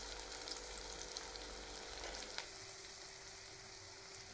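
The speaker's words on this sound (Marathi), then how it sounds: "कांदा लाल होईपर्यंत तळूया आपण" Onion and tomato fry in a pan with garlic, cumin and mustard seeds, giving a steady close sizzle with occasional stirring clicks. It is quiet, with no talking.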